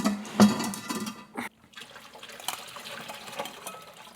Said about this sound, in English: I'm going to empty the water and set the peels off to the side for now.